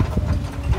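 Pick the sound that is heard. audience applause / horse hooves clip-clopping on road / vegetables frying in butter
horse hooves clip-clopping on road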